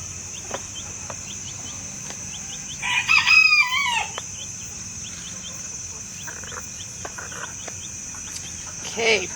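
Backyard chickens with a rooster crowing loudly nearby in the middle, a second crow at the end, faint clucks and steady insect chirping underneath, no talking.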